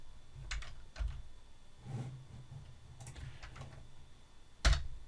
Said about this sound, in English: press the tab key on the keyboard